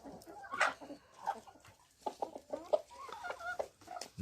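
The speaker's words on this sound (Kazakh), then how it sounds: "Міне осы тауықтарымыз" Chickens in a farmyard coop give a scattered run of soft clucks and short cackles, faint and close together, with no one speaking.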